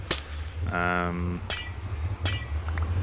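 Glass blocks shattering in Minecraft, three crisp breaking bursts spaced across the moment, with a short tonal chime in between, all over a steady low background hum.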